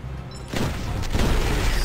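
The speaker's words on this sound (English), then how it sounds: "Shotgun." A shotgun firing in the game Mighty Goose, a sudden loud boom that breaks into a dense roar and keeps rumbling for over a second, with no speech.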